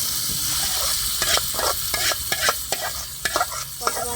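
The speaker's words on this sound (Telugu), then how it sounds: "2 ఎండుమిరపకాయలు, కొంచెం కరివేపాకు వేస్తున్నాను. వేగిపోయిందండి." Dried red chillies and curry leaves sizzle in hot oil during tempering, a loud, steady frying hiss broken by repeated stirring scrapes.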